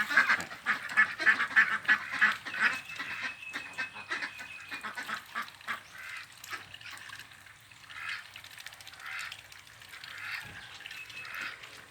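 A flock of Yili ducks quacks and honks repeatedly, loud at first then settling into scattered calls, with faint splashing water in the background.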